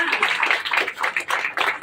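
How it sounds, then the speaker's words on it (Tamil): An audience at a school's women's day celebration claps steadily, a dense patter of many hands in bursts that swell and dip without pause. "அவருக்கு எல்லாரும் ஒரு மிகப்பெரிய கைத்தட்டலை"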